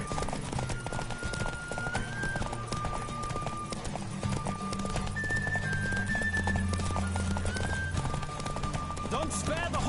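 Horse hooves clip-clop steadily through a busy racing scene, with an occasional whinny, music and game effects layered over the galloping rhythm throughout.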